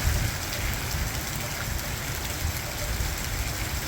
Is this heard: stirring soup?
no